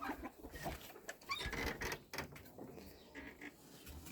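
Chickens cluck and murmur in short, irregular bursts, fairly faint, with scattered rustling and movement around them.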